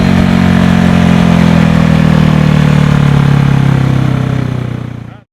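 A Honda CB360 motorcycle engine runs loud and close at a steady idle with a deep throbbing note, then cuts off and dies away in the final half second.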